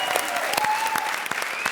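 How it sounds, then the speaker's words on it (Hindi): A studio audience at a TV comedy show claps in a dense, continuous burst of applause, with a voice briefly audible over it. "बजा ताली।"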